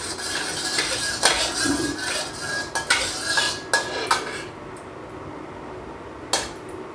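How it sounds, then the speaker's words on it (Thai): Rice noodles tossed with sweet dark soy sauce are stir-fried in a hot wok with lard, a metal spatula scraping and clanking against the pan in quick irregular strikes, close and moderately loud, fading to quieter stirring near the end. "นำเส้นก๋วยเตี๋ยวที่คลุกเคล้ากับซีอิ๊วดำหวานลงผัดครับ"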